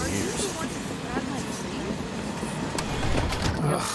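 A train rumbles steadily along in Final Fantasy VII Remake, a constant near rattle filling the carriage with faint clicks, while voices talk over it throughout.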